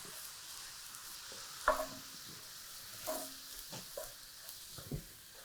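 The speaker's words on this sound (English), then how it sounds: "And I'm going to pour that right in and use that to scrape up any of these brown bits." Chicken stock poured into a hot pan after searing pork tenderloin medallions, a soft steady sizzle broken by a few sharp scrapes and clinks as a utensil works the browned bits loose, quiet and close.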